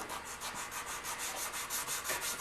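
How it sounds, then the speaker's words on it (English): Sandpaper of 320 grit rubbing over guitar body wood during paint prep, a steady close-up scratchy hiss with quick rhythmic back-and-forth strokes, no talking. "Take the 320, I'm just going to come in and clean up a little bit some of the areas that are having problems."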